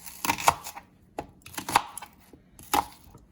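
A knife chops onion on a cutting board for a coriander chutney, with several sharp, close knocks in irregular bursts and no talking.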